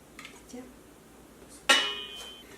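Rice is mixed with salt and sesame oil in a bowl for turmeric gimbap: soft, faint stirring, then one sharp, ringing clink of a utensil against the bowl near the end.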